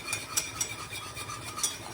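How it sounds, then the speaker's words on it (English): A whisk scrapes and taps rhythmically against a pan as a flour and butter roux cooks, with soft repeated strokes over a faint sizzle, close but quiet, no talk. "I'm going to keep giving it a good old whisk"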